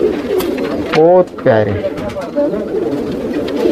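Pigeons, breeder birds at a pigeon farm, coo softly in the background, half-buried under steady talking; the birds stay low and muffled while a voice speaks over them.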